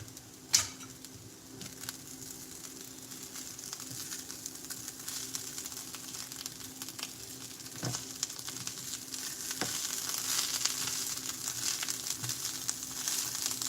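About a tablespoon of tomato paste fried and worked into a pan while cooking Sunday dinner, a continuous close sizzle that grows a little louder, with an occasional knock of the spoon.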